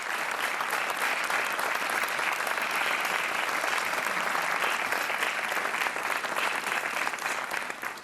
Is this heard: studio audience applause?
yes